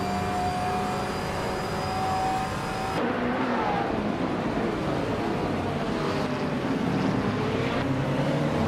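Racing cars drone loudly and continuously through a video game race, engine tones rising and falling as they jostle, with a sharp shift partway through and no talk.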